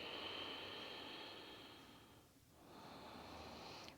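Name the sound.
Ujjayi breathing through the nose, ocean-like sound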